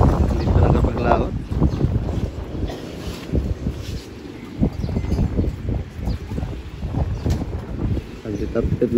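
Gusty wind buffets the microphone with rough, uneven roars, suggesting rough water and waves, while a voice talks intermittently.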